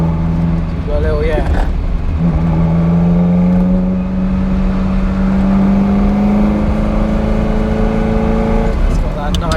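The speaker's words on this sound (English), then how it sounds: "It's got that nice burble" A heavy-clutch Ferrari, a replica of an Enzo-era car, revs close up with a sustained rising engine drone and carburettor burble running through most of the stretch.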